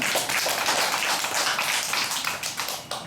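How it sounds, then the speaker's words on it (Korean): A small church congregation claps together for a few seconds, fairly close and moderately loud, with no talk over it. "박수"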